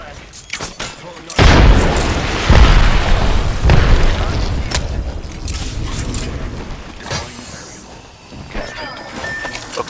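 A frag grenade going off in the battle royale game Apex Legends, heard as a loud, close boom with a deep rumbling tail amid scattered gunfire and game effects, while players talk.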